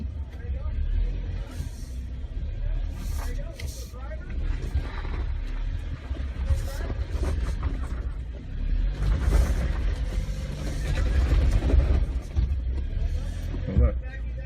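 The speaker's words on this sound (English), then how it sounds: "Oh, look, you're spinning." A 2018 Jeep Wrangler rumbles with a steady low engine drone and tire noise as its wheels spin, the rough grinding swelling toward the end while voices talk over it.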